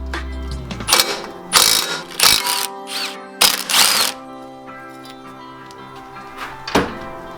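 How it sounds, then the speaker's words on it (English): A ratchet wrench removes 12 mm nuts from the turbo heat shield of a 1JZ-swapped S13: several bursts of quick metallic ratcheting clicks, close by, with clunks and a lower background hum. "we're gonna start with taking the 12 millimeter nuts off where the little heat shield is"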